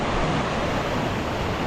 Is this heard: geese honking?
no